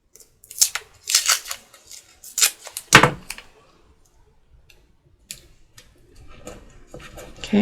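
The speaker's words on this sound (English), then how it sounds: "Use a little bit of tape." Short crisp ripping and crackling bursts of tape being torn from a roll and pressed over a small magnet, close and sharp, followed by quieter handling rustles.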